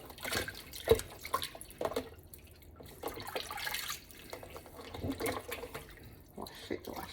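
Tap water runs and splashes while a pork roast is washed in a sink by hand, with irregular drips and handling noises, fairly quiet and close.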